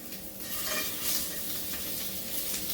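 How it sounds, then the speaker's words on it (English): A rack of lamb sears in a hot pan with a steady, dense sizzle and crackle of frying, close and fairly soft, with no voices over it. "We're going to go ahead and add our lamb in the pan."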